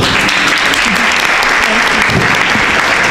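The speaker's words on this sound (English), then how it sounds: "one more round of applause" Loud, sustained audience applause at a university business panel, a thick continuous roar of clapping that fills the room from start to finish, with a voice faintly audible beneath it.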